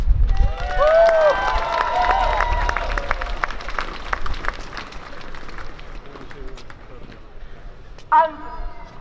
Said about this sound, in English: So a round of applause for you, really.